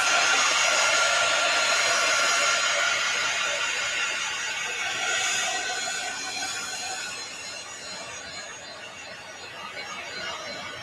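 A hair dryer blows a continuous, loud broadband whoosh to dry a painting, holding steady before easing slightly toward the end, with no talking.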